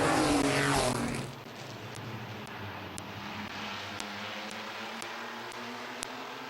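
Race cars on the final lap at Midvale Speedway roar past loudly at the start, then fade into a steady distant engine drone as the pack moves around the track, with faint periodic clicks.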